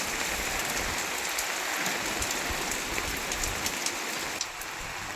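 Rain falls steadily on a vegetable garden, a soft, even patter and hiss of drops on leaves and soil, constant and close with no voices.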